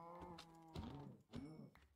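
Minecraft cows mooing, two or three short nasal lowing calls in quick succession, close and clear but quiet, with no talk over them.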